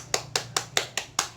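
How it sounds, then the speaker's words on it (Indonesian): A classroom of students gives a short burst of applause for a classmate, six rhythmic group claps in unison, near and moderately loud with a low hum underneath. "Tepuk tangan dulu kepada Uli."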